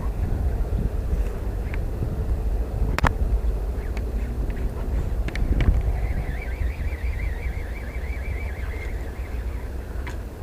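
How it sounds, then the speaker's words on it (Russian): Wind buffets a microphone on a fishing boat during a casting session, a steady low rumble with occasional clicks and a brief whine from reel or line. "Ветер дует сильнее."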